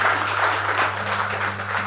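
Audience applause at a motivational business gathering, a steady wash of clapping, fairly distant and even, with a low electrical hum beneath.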